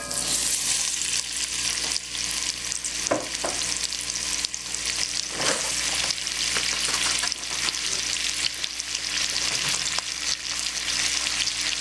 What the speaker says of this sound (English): So now we're going to add our chopped onions.